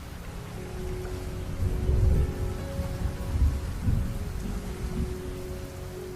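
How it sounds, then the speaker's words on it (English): Steady rain pours outside a bus at a station, a dense close hiss with a deep thunder rumble rolling underneath, no voices. "hopped onto the bus just as the first raindrops started to fall."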